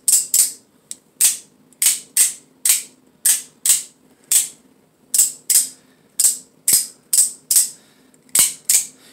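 An Atomic Defender large OTF knife, a knock-off of the Microtech Combat Troodon, is fired open and shut again and again with its screws partly out, giving a run of about twenty sharp, loud, close mechanical snaps at a steady rhythm.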